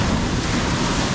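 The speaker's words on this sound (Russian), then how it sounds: "море бушует" Rough, stormy sea surf breaking along a secluded rocky beach, heard as a continuous close roar of churning water with wind buffeting the microphone.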